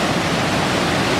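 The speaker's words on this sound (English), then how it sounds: "the waterfall is right freaking beside you" Triple Falls roaring in full spate after abnormally heavy rainfall, a dense, steady broadband rush very close and loud, with no voices over it.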